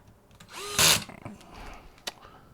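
A power screwdriver tightens screws on the digital cluster speedometer panel of a 1984–89 Corvette, giving one brief loud whirring burst followed by softer clicks and a short sharp tick.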